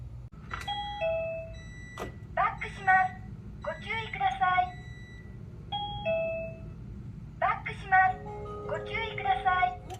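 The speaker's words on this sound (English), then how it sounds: "when I throw it in reverse, it says, please excuse me, I'm backing up" A Honda Acty kei truck's reverse warning plays a close electronic chime alternating with a recorded voice announcement, repeating in a steady loop over a low idling hum.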